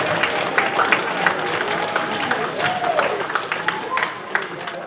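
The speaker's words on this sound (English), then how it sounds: "Give all these people a round of applause." Applause from an audience at a BPA chapter meeting, brisk clapping from a room of people mixed with crowd murmur and talking voices.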